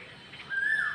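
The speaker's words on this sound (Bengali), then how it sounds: "ওই দেখো কোকিলের ডাক শোনা যাচ্ছে" An Asian koel calls in cloudy weather, a clear rising whistled note arriving midway and holding to the end, loud and near over quiet background with no talk.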